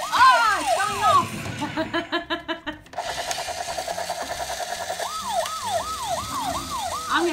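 A toy rescue vehicle's electronic siren wails in repeated rising and falling sweeps, loud and close, with a stretch of electronic tones and beeps between the wails and a voice talking over parts of it.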